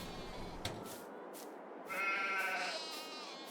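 Sheep in the farming video game Farming Simulator 22 let out a clear bleat midway through, preceded by a few faint thuds and quieter animal sounds, with no speech.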